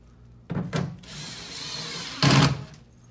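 A power drill drives a screw into a board, recessing the washer into its coating: two short bursts, a steadier run, then a louder final surge, close and without talk.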